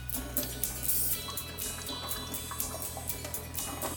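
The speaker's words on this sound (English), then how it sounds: "And now drain off the water." Wash water drains off soaked urad dal, idli rice and poha, a continuous splashing pour with scattered drips and clinks from the vessel, steady and close.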